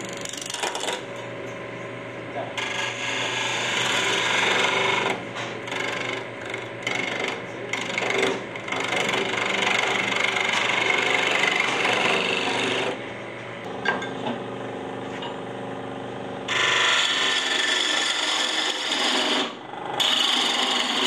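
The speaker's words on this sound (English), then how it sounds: "The carbide cutters do cut fairly well, just that you're scraping." A carbide cutter scrapes across wood in long, continuous rasping passes, loud and close, with brief pauses between strokes and no talking.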